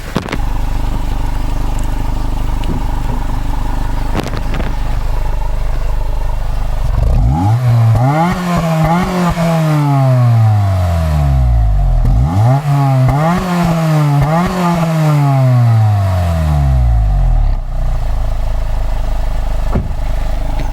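A 2008 Honda Civic Si, parked, has its engine revved twice against a 5,500 rpm limiter, each time a loud rising whine that bounces and stutters at the cutoff before dropping back to a rough idle.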